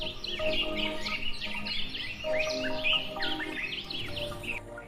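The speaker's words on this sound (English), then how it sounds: "Forest birds at dawn." Forest birds sing at dawn in a dense, continuous chorus of overlapping chirps, trills and whistles, several birds calling at once from near and middle distance, with no voices.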